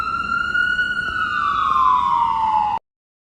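An ambulance siren wails loud and close in the street, a single long tone that slowly slides downward before cutting off abruptly.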